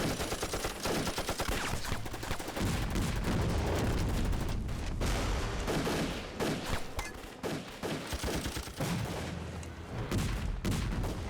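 Dense, sustained battlefield gunfire from a war drama set in the resistance against Japan: rapid overlapping rifle and machine-gun bursts with heavy booms, loud and continuous throughout with no pauses.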